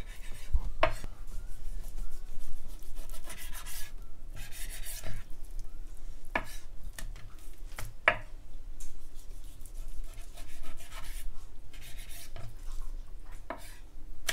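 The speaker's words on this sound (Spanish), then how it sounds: "vamos ahí poco a poco cortando y cortando y cortando" Knife slicing pork loin into fillets, a series of irregular cuts and scraping strokes against a board, with sharp knocks and clinks spaced every second or two, close and moderately quiet.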